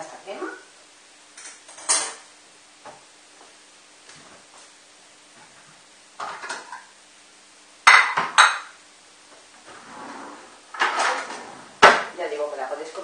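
Zucchini cream soup made in a GM pot being served onto a plate, with a string of clinks and clatters of a ladle or utensils against dishes, irregular bursts separated by quiet pauses.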